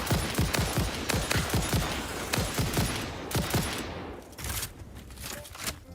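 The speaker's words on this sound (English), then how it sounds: "Where are you firing from?" Gunfire in the video game Satisfactory: a rapid string of sharp, loud shots in quick succession for several seconds, then sparser scattered bangs as the volume eases slightly.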